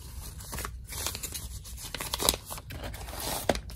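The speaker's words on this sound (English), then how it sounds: "I just cut part of the flap off." Scissors cutting off part of a paper envelope flap for a handmade journal, a few close, quiet snips and paper rustles with no talking.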